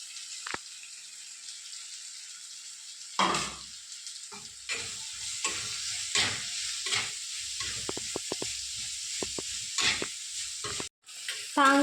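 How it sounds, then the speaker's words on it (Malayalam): Chopped onions sautéing in a pan for a beef curry, a close, steady sizzle of frying with repeated scraping and stirring strokes across the pan, no talking. "അതുപോലെ തന്നെ സബോള അരിഞ്ഞു വെച്ചത് ഇതിലേക്ക് ഇട്ട് വഴറ്റിയെടുക്കുകയാണ്."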